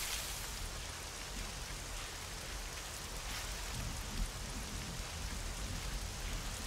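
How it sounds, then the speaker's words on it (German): Steady rain pours down in the survival game 7 Days to Die, a dense, even hiss of drops falling on surfaces that holds at one level throughout, with no voices over it. "Ja, ja, hier regnet es auch"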